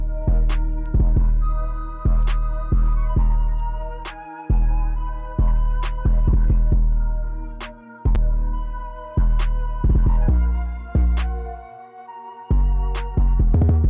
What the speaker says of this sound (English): So our pattern with the clap sounds like this.